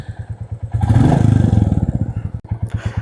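A Royal Enfield Classic 350 Gorkha Edition single-cylinder motorcycle idling with a steady, close thumping beat that swells briefly, then a short mechanical clunk as it is shifted into first gear before the even idle resumes.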